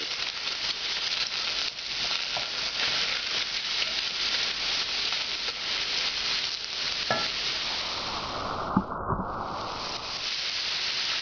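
Garlic frying in oil in a pan for spatchcock barbecue chicken, a loud, close, continuous sizzle with scraping stirring strokes and occasional clinks, no talking.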